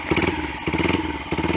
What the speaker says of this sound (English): It's the first start, and it started first time since 2019.